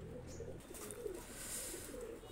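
A single male Kasuri pigeon coos in low, soft, rounded phrases, close and fairly quiet over a steady background hiss, with no talking.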